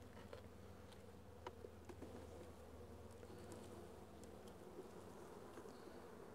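Honey bees at an open feeding station on styrofoam give a steady, faint, low buzzing drone, with occasional louder passes of individual insects.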